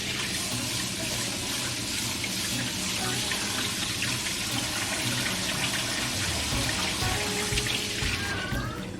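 A coffee maker's filter basket is rinsed under a running kitchen tap, with water splashing steadily and close by for the whole stretch before it tapers off at the very end.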